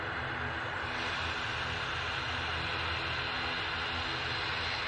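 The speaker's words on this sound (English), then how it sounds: "little ATR 42 going up next." An ATR 42 turboprop takes off at Manchester Airport, a constant dense engine roar with a steady hum underneath, sustained and fairly distant.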